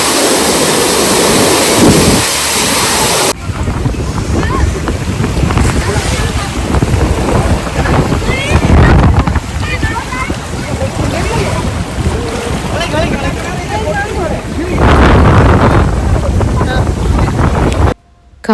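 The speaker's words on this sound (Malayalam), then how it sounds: "കാറ്റെന്ന് പറഞ്ഞാൽ ചെറിയ കാറ്റൊന്നും ആയിരുന്നില്ല കേട്ടോ." Strong, cold wind buffets the microphone at Hatta dam in the UAE, a loud continuous roar with rushing gusts that surge and ease, and faint voices now and then beneath it.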